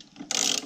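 A fancy little wrench working on the fan belt of a Volkswagen 1500cc engine, giving a short burst of ratcheting clicks close up after a faint lead-in, with no talk.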